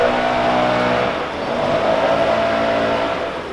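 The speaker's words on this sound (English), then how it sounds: "Oh, there goes the blower." A leaf blower runs at a plant nursery, a steady loud motor drone that holds at an even level with a tonal whine over broadband rush for the whole span, with no talking over it.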